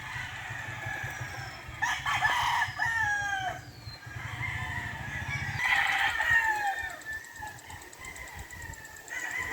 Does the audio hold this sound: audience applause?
no